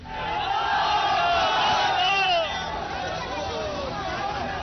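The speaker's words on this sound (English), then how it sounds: "A charged crowd indulging in heavy sloganeering" A charged crowd shouts slogans loudly at a street protest in Moradabad, many voices rising together in dense, sustained chanting and yelling that stays strong throughout.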